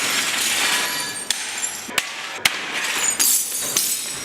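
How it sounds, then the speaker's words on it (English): Broken glass poured from a roof down behind a car on a TV advert set, a continuous close rushing clatter of tumbling shards with a few sharper clinks and impacts. "We had two guys up in the thing pouring glass behind the car"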